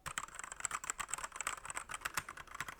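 Typing on a Redragon Ucal Pro gasketed mechanical keyboard with red switches: fast, even, close-up key clacks with a muted, cushioned tone that continue without a break and without any talking.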